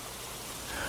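Rain falling steadily, a soft, continuous hiss of drops at low level with no voices.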